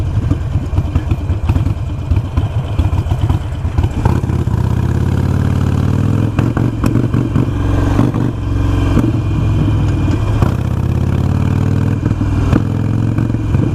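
A Harley-Davidson Iron 883 motorcycle engine runs roughly, a steady loud close drone with uneven sputtering and clatter, stumbling when the throttle is opened and failing to pull.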